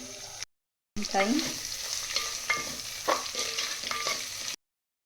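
Onions sizzle and fry in a pot of oil for mutton biryani, with steady crackling and several clanking stirs of a spoon against the pot, close and fairly loud, broken by a short silent gap near the start.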